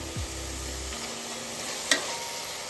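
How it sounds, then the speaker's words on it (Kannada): Mushrooms sautéing in oil in a pan for a South Indian mushroom biryani, a close, continuous sizzle with a brief stirring scrape and one sharp clink near the end. "ಎಣ್ಣೆನಲ್ಲೇ ನಾವು ಚೆನ್ನಾಗಿ ಬಾಡಿಸ್ಬೇಕು"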